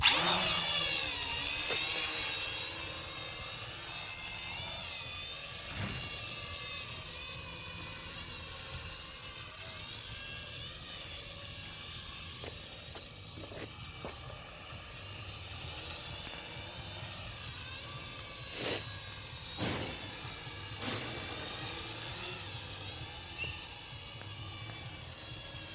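A Virhuck Visuo XS809W folding FPV camera drone flies with a continuous high-pitched whining buzz of small propellers that wavers in pitch as it maneuvers, steady and fairly close, with a few faint clicks along the way.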